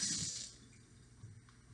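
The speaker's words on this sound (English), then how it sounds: "I'm gonna wash my hands" Kitchen tap water runs briefly for handwashing while a fresh pumpkin pie is being made, a soft rushing splash that fades after half a second into quiet room tone.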